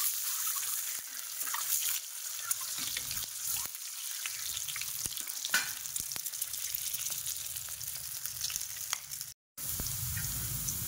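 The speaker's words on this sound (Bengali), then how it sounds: "এর মধ্যে আমি একটু হলুদ অ্যাড করলাম, হলুদটাকে নাড়িয়ে নেব।" Eggs and turmeric fry in a pan while being stirred, a quiet continuous sizzle with scattered scrapes and taps of a spatula, cutting out briefly near the end before resuming.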